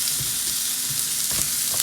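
Onions sizzle steadily in a hot pan as they are stirred, a continuous close frying hiss with soft scraping strokes at intervals and no talking.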